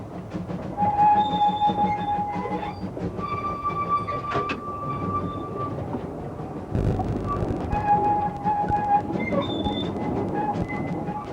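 A steam train runs along a heritage railway through countryside, with a steady rolling rumble and clatter of carriages, whistle-like tones sounding at intervals, and a louder surge partway through.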